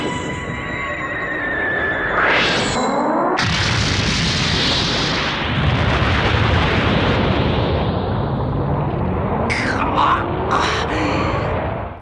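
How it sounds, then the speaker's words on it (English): A huge explosion as the moon is blown apart in the Dragon Ball Z anime: a sudden deep, roaring blast that rumbles on continuously and loudly, with sweeping tones beforehand and sharp flashes of sound near the end. "he makes a world-changing decision by blowing the moon into space dust"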